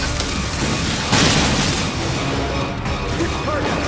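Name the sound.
Samus firing a missile in the video game Metroid: Other M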